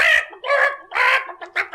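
A voice imitates a hen clucking, voicing a handkerchief in a French Guignol puppet show, a few loud, close bursts of clucks in quick succession.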